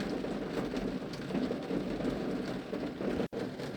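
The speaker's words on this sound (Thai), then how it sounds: "ตอนนี้ฝนก็เริ่มโปรยปลายมา" Rain beginning to fall over a garden under dark stormy skies: a steady, even hiss of drops close by, continuous throughout with one brief dropout near the end.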